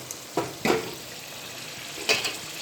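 Mutton pieces being stirred into prepared masala in a pan for dum biryani, with a few short scraping stirs and a brief sizzle over steady low frying hiss, close and fairly quiet, no talk.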